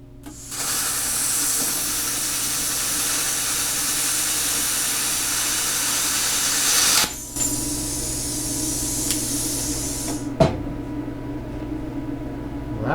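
A plasma cutter slices through metal while making a chicken coop boot piece, producing a loud, continuous hissing roar for about seven seconds, then a short break and a second sustained cut.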